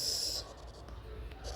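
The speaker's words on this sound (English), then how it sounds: "Let me write it again." Pen or marker writing an anatomy term by hand, a soft scratchy stroke sound under a speaking voice in a quiet room.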